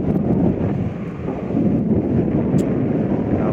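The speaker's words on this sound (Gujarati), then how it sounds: "તો મિત્રો પવન આવતો છે. પવન બહુ લાગે છે અહીંયા" Strong, steady sea wind on the coast roars and buffets the microphone, a continuous low rumble with no voices.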